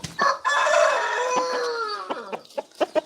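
A fighting rooster crows loudly and up close in one long drawn-out call, followed by a few short clucks as it tails off.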